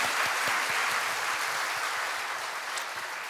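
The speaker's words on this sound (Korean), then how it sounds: "우리 박수로 격려하겠습니다." Sustained applause from a church congregation during a Sunday worship service, a dense steady wash of many hands clapping together without pause, holding fairly even and fading only slightly toward the end.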